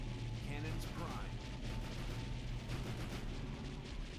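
Spaceship cannons fire in a space battle in Sins of a Solar Empire: Rebellion, a dense, continuous rumble of repeated booming shots with a voice speaking over it.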